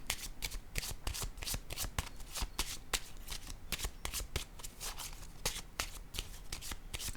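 Playing cards are shuffled and handled during a card reading, with rapid rhythmic riffling taps repeating close and crisp, steady for the whole stretch with no talking.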